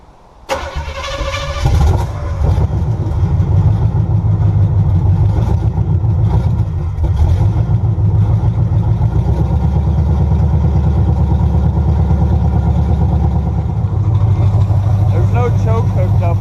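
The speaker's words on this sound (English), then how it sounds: "let's do a little cold start on it." An 85 Chevy C10 engine cranks and fires on a cold start, then settles into a loud, steady, throbbing idle close by that carries on to the end.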